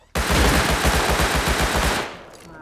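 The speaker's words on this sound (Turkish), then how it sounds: "Biri uzaktan sıkıyor bekle" Rapid automatic gunfire in the survival game Rust, a loud sustained burst of evenly spaced shots lasting about two seconds, then cutting off into a faint tail.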